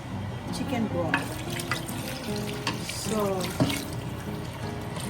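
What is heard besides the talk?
tap water running, adding water to the soup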